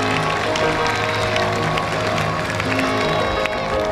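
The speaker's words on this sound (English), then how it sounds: "And the applause for Liu" Spectators applauding a softball player at a 1996 Olympic women's softball game between Australia and Chinese Taipei, a steady wash of crowd clapping and murmur in a large stadium, with a commentator talking over it.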